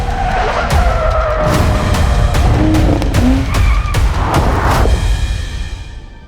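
A 2023 Nissan Z sports car races hard on a track, its engine roaring loudly and close while the tires squeal and skid through a corner, with sharp bursts and shifts across the run and no voices.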